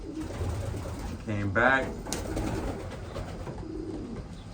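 Racing pigeons in a loft give a short, near, throaty coo over low background noise, while someone speaks briefly.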